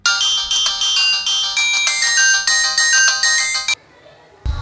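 Telephone ringtone playing a loud, repeating electronic melody for several seconds, then cutting off as the call is answered, followed by a brief burst of noise at the very end.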